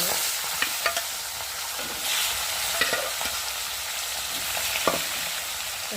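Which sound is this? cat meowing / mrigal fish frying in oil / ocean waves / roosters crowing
mrigal fish frying in oil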